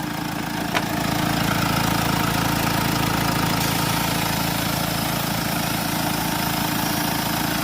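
Mercedes E Class engine idling during a DPF differential pressure sensor repair, a steady low rumble with even mechanical texture, close and constant throughout, with a small click near the start and no talk.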